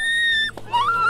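A small dog gives high, thin whimpers, one sustained whine, a brief pause, then a rising second whine, close and fairly clear.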